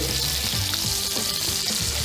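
Beef sizzles and crackles steadily in a hot pan, a dense hissing frying sound with a low background hum, no voices.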